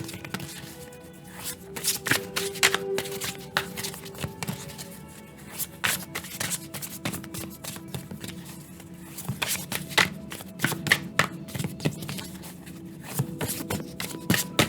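A deck of 78 tarot cards is shuffled by hand continuously and up close, with dense rapid riffling and flicking clicks that swell and ease in bursts throughout, no talking.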